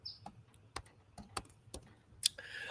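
Sparse keystrokes on a computer keyboard tap out in irregular short bursts, several distinct close clicks against a quiet room with no talk.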